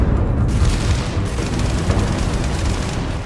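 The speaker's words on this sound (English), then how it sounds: "different ammunition like explosive rounds" Explosive rounds firing in the video game Starfield, a dense, continuous barrage of booming blasts and gunfire that stays loud and unbroken throughout.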